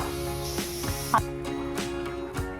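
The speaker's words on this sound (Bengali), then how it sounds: "দুপুরে রান্না করছি, এখানে হচ্ছে বেগুন ভাজা" Eggplant slices frying in a pan at home during a midday vegetarian cooking session. A continuous sizzle and spatter with a few sharper pops, close and steady, and no voice over it.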